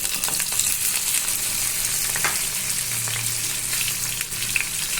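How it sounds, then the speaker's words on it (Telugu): Paneer fries in oil in a pan for a phool makhana gravy, making a close, continuous sizzle with small crackles and occasional stirring scrapes and no voices. "ఇందులోకి పన్నీర్ అయితే కొంచెం వేయించుకోవాలండి"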